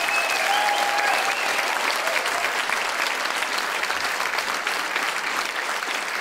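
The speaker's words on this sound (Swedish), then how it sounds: "En stor applåd för Jakob Rubensson!" Loud, sustained audience applause at a charity gala for a children's cancer foundation, a dense roar of many hands clapping with a couple of faint whistles early on.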